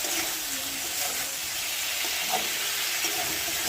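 Ginger, chilli and tomato paste with salt, turmeric, cumin and coriander powder sizzle steadily in a hot pan, a dense continuous frying hiss with a few faint stirring touches and no voices.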